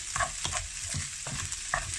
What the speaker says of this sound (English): I'm going to add a little bit of oyster sauce. And we're just going to mix that.